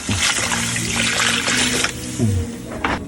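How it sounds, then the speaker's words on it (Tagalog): Water is poured into a cooking pot with ginger and onion for abalone, a continuous trickling splash close by, with a faint voice or hum in the background. "tapos lagyan natin ng tubig"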